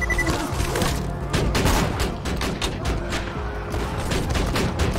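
A sentry turret in Borderlands 2 fires rapid, steady bursts for several seconds, a loud continuous volley of gunshots with the noise of combat behind it.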